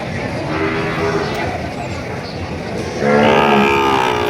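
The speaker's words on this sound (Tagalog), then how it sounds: "Ang gagara ng baka nyo." Cattle at a farm, with loud, close, sustained lowing that strengthens and grows more tonal toward the end, heard over a busy background.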